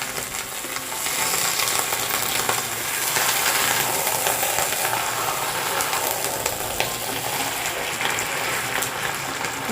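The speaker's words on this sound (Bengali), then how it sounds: "অনেকক্ষণ ধরে তেলের মধ্যে নেড়ে নিচ্ছি, যাতে জলটা পুরোপুরি শুকিয়ে যায়" Ghetkul leaves, stripped from their stems and giving off water, are stirred steadily in hot oil in a pan, making a continuous loud sizzle with scraping stir noises throughout.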